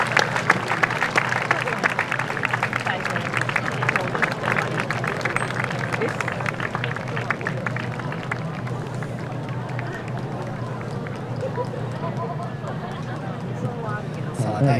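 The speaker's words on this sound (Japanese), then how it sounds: "それでは皆さん拍手でお迎えください。" Sustained audience applause at the award ceremony of a dance festival in Inuyama, a dense steady clapping from a large crowd that continues throughout, with a voice speaking over it.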